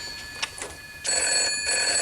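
An old-style telephone bell rings indoors in two bursts, the second louder and longer, sharp metallic trills in a quiet room with no talking.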